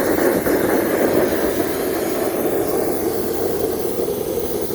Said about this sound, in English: you wouldn't be hearing the jet noise.